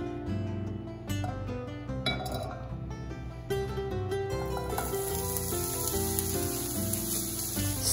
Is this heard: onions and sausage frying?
yes